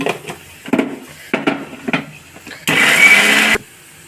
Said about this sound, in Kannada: ಇದು ಮಿಕ್ಸಿಗೆ ಹಾಕೋಣ